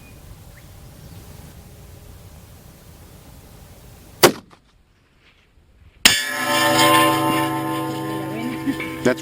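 A single loud rifle shot from a Howa 6.5 Creedmoor cracks out sharply at an outdoor range, followed by a hush and then a burst of loud noise and rumble, with no talk over it.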